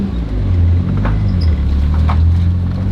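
A Mitsubishi Evo 8 that sat unused for five years drives along with a loud, steady low engine and road rumble from inside the cabin, with a couple of faint brief squeaks.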